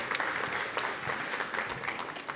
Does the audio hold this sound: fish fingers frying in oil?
no